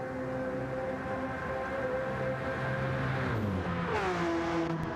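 Racing cars on the Nürburgring during a 24-hour endurance race, engines droning steadily with a higher pitch sweep as one shifts and passes, a continuous loud mechanical whine without talk.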